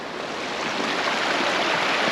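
Bear Creek in the San Gabriel Mountains flows close by, a loud, steady rushing and splashing of creek water that holds constant throughout with no voices.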